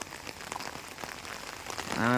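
Steady rain falls outdoors during a storm in Parassala, where wind brought down a tree and snapped a power-line post. The patter is a dense, continuous hiss that swells slightly, and a brief tonal, horn-like sound rises at the very end.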